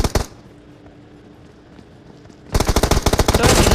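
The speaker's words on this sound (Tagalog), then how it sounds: "Eh, ano yung armas niya? Machine gun." Rapid automatic machine gun fire from PUBG Mobile gameplay, a brief burst at the start, then quiet, then a loud sustained volley of closely spaced shots.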